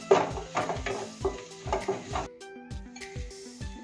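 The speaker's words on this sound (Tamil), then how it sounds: "இப்போ வெங்காயம் நல்லா ஃப்ரை ஆகிறதுக்கு உப்பு போட்டிருக்கோம்." Onions frying with salt in a pan, heard as a series of close stirring scrapes and soft clinks of a utensil against the pan over a low sizzle, with the strokes thinning toward the end.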